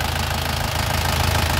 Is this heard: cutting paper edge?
no